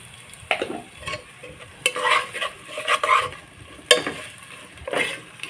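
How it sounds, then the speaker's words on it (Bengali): Spice paste for tehari stir-fried in a pan, with repeated scraping stirs and a steady sizzle of frying running under them, close and moderately loud throughout. "মশলাটা একটু আমি সময় নিয়ে কষা করে নেব"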